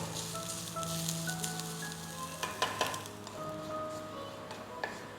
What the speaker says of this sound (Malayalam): നല്ലൊരു ബ്രൗൺ കളർ ആവുന്നതും വരെ തേങ്ങ വറുത്തെടുക്കാം